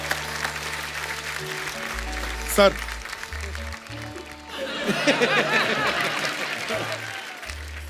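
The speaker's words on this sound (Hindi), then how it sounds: "उनके लिए जोरदार तालियां हो जाएं।" An audience at a comedy show breaks into applause that swells midway and carries on through the end, mixed with music and a speaking voice.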